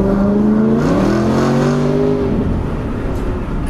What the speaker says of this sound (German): Der 1M klingt gut, er ist auch laut, er hat eine Komplettanlage